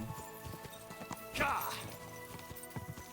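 A horse in the medieval game Kingdom Come: Deliverance 2, with steady hoof clip-clops and a brief whinny near the middle, heard over game music, with a voice talking now and then.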